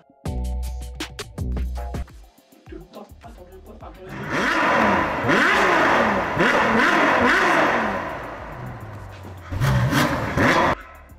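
Ferrari 812 Superfast engine revs loudly in rising and falling sweeps, with a short sharp blip near the end. Earlier, a voice and other sounds are heard before the engine comes in.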